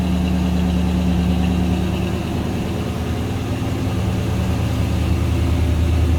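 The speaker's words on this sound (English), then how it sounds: "Nice little rumble out of that Rocket 350." The Rocket 350 V8 engine of a 1972 Oldsmobile Cutlass Supreme Convertible idles with a deep, steady burbling rumble, loud and close, a slight dip in the middle, no voices.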